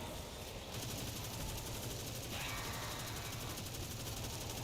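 Auto rifle fire in the shooter Destiny 2, a dense, continuous rapid rattle of rounds that is loud and steady throughout with no pauses.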